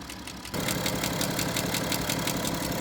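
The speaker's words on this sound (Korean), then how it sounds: "엔진의 RPM이 내려갔을 때만 소음이 나네요" A BMW F10 535d diesel engine idles at low RPM, starting abruptly and then holding a steady hum with a regular, evenly spaced knocking or ticking pulse running through it.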